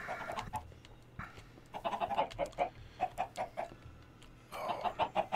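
Chickens cluck in a Minecraft survival world, bursts of short rhythmic clucks repeating in groups with brief pauses, moderately close, mixed with light game noise and no talking.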